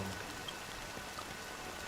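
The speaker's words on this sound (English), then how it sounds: "The rain sound effects is making it hard to hear you." Steady fine rainfall sound effect, a dense even hiss of drops that runs unbroken and at moderate level with no other sounds.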